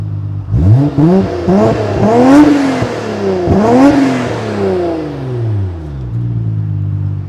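A Nissan Skyline GT-R R33 (BCNR33) engine revs and rumbles with a deep exhaust note, rising and falling twice, loud and close with no talking.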